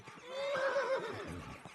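A single horse whinny in Kingdom Come: Deliverance II, rising and wavering for about a second, moderately close, over faint background noise.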